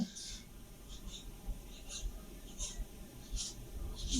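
A marker or chalk writes on a classroom board in short scratchy strokes repeated at a steady pace, with faint whispery speech in the background.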